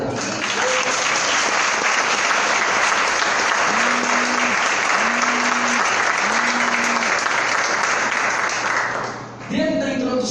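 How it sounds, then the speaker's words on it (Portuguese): A church congregation applauds during a worship service, a dense continuous clatter of clapping while a voice speaks and sings over it, fading briefly near the end. "aplaude o Senhor para acordar"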